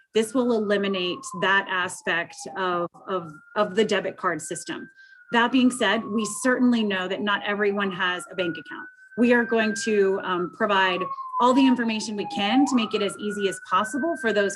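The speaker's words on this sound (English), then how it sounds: "I apologize if you can hear the sirens in the background." Emergency vehicle sirens wail outside an office in Baltimore City, a slow rising and falling tone that runs faintly in the background throughout, under continuous close speech from a man.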